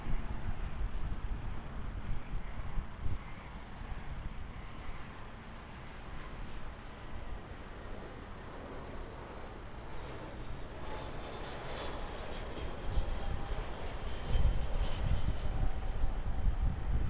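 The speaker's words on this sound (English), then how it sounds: "Just pan around for New Zealand flight 424 arriving from Wellington." Air New Zealand flight 424 from Wellington, registration ZK-OXC, approaches and arrives at Auckland airport with a steady, loud engine roar and broadband rush, building slightly toward the end with some wind buffeting.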